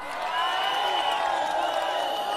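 A crowd at Embu market applauds and cheers in a brief, dense wash of clapping and voices, loud and sustained for a couple of seconds.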